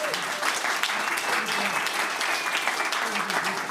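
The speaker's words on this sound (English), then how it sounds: "Want to give a round of applause for them too." Dense, steady applause from an audience at a Bitcoin mining event in Denver, thanking sponsors. The clapping stays even and full throughout, with faint voices underneath.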